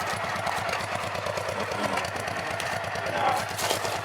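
A Honda PC-800 motorcycle engine idles while warming up, a steady, close rhythmic putter with a light mechanical clatter and continuous low rumble.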